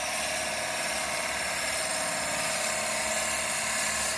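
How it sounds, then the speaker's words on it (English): A steady, loud drill whirs continuously with a constant buzzing tone, no pauses, close up, boring a 32mm hole through wood. "I'm drilling a 32mm hole."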